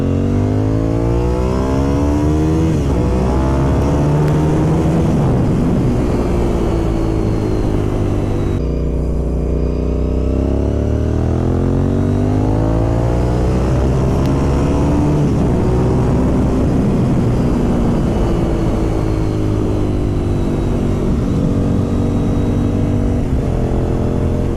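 A Honda RC51 SP2 V-twin sport motorcycle accelerates hard on a first ride, its loud close engine note rising through the gears, easing briefly at a shift, then climbing again with heavy wind roar to the end.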